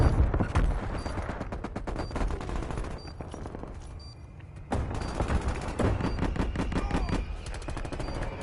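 Heavy gunfire from a strafe run in Call of Duty Black Ops Cold War: dense, loud rapid-fire bursts and impacts, with a short lull before another sustained volley, and game voice callouts mixed in.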